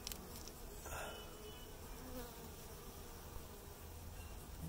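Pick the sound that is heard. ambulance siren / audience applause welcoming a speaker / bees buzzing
bees buzzing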